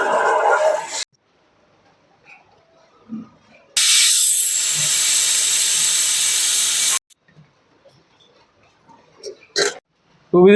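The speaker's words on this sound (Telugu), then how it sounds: "మొత్తాన్ని మిక్స్ చేసి 2 విజిల్స్ వచ్చేలాగైతే మనం కుక్కర్కి పెట్టేసుకోవాలి" A pressure cooker of tomato dal with tomatoes, dal and salt lets out a loud, steady burst of hissing steam lasting about three seconds, set between quieter stretches with faint kitchen clatter.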